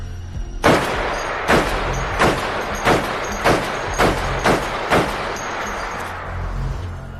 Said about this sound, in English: fires an M107 with the suppressor off